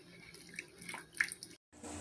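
Water splashes briefly as it is poured into a cup of flour for a silverfish fritter (ukoy dulong) batter and gently stirred, a soft trickling run that drops out for a moment near the end.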